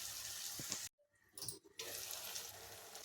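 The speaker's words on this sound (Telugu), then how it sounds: "కొద్ది వాటర్ పోసుకుందాం" Water is poured from a glass into a pan of simmering drumstick and salt fish curry on a stove, a close splashing rush broken by a short pause, with kitchen hiss before and after.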